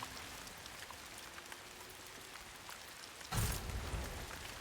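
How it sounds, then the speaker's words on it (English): Rain falling in the video game Ghost of Yotei, a steady hiss of drops on surfaces that suddenly swells louder and heavier near the end, with no talking. "Raining."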